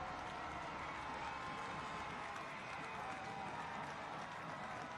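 A stadium crowd at Trinity Health Stadium roars after a goal in a Hartford Athletic versus Louisville City soccer match, a dense sustained wall of cheering and clapping from many fans.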